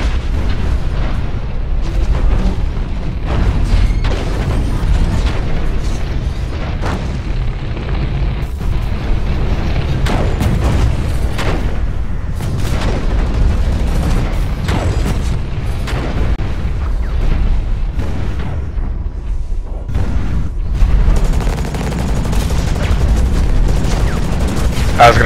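Continuous gunfire and booming explosions fill a mech battle in the Hawken video game, dense rapid bursts and heavy thuds throughout, with a voice talking at times over the combat.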